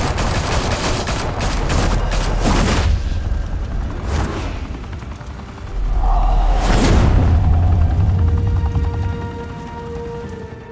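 Heavy gunfire and explosive booms in Batman: The Telltale Series, loud sustained volleys with whooshes and a big blast midway, thundering low rumble under the shots.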